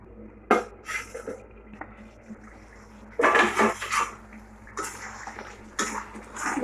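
A pan of okra is covered with a lid in a home kitchen, giving sharp metallic clanks and clatters in separate bursts, with quieter stretches between them.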